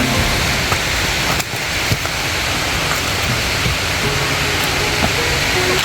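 A jungle waterfall in Thailand pours in a dense, constant roar of falling water, close and loud, steady throughout with no speech over it.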